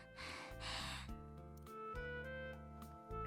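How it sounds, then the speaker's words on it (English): Akane, a character in the video game Gore Screaming Show, pants heavily in a couple of breathy gasps over game music, close and fairly quiet. "Akane tries to explain herself to him while panting heavily"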